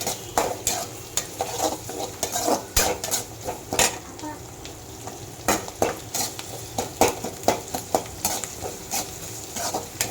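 Onions sautéing in a generous pour of oil for Madras fish curry, with a steady sizzle broken by frequent loud scrapes and clanks of a spoon stirring against the pan, close and without talk.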